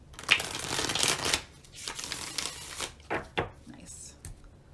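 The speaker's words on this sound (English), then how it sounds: "Nice clear shuffle there at the end" Tarot cards being shuffled in several crisp riffling bursts, close and fairly loud, with brief pauses between.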